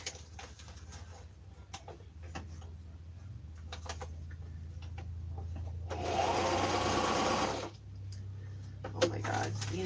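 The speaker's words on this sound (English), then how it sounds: "Let me sew this really quick." A sewing machine stitches fabric in a home craft setting, a steady low motor hum running throughout with a louder, denser burst of rapid stitching in the middle, alongside scattered light clicks and handling noises.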